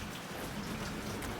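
Rain falling outdoors in California's Central Valley, a steady, dense patter with no talk, even in level throughout.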